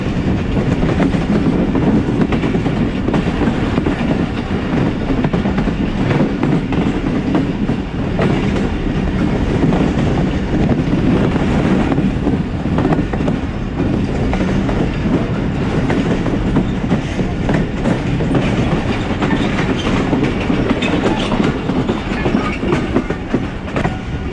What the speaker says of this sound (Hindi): अब ट्रेन अप्रोच बना रही है झमट स्टेशन के लिए